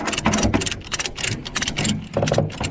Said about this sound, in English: Let's put the ratchets on.